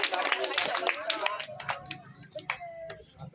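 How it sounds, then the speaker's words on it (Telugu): A children's audience claps at a Bible school Christmas celebration, giving a scattered burst of hand claps that thins out over a few seconds, with some talking mixed in. "క్లాప్స్ కొట్టండి రా కొట్టండి"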